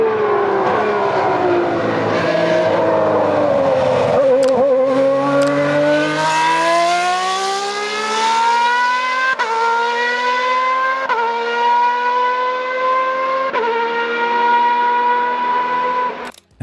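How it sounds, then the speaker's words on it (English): A Ferrari naturally aspirated V12 Formula One engine screams at high revs, its pitch sliding down and then climbing through gear changes, loud and sustained with short breaks at each shift. "A naturally aspirated V12. No turbos, no shortcuts, just 12 cylinders pushed to their absolute limit."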